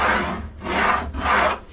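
Handsaw cutting wood during a wooden boat restoration: three steady back-and-forth strokes with short pauses between, close and clear with no talking.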